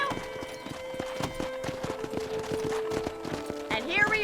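A horse gallops in the Red Dead Redemption video game, its hooves drumming out a quick, rhythmic clip-clop close up. A voice and game sounds run alongside, and there is a brief whinny near the end.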